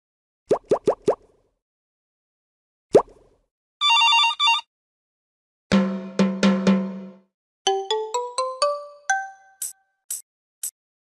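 A short burst of a ringing telephone bell in a Dora the Explorer game sits among other separate game sounds: quick plops, a thud, a buzzy blare and rising chiming tones, with silence between.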